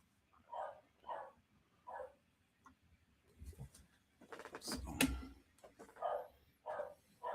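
Dogs bark in several short, repeated bursts, faint and somewhat distant, spaced irregularly with a louder clattering thump in the middle of the sequence.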